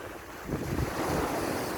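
Sea waves wash onto a Thai beach while wind buffets the microphone, a steady broad rush that swells louder after the first half second and stays up, with no talking.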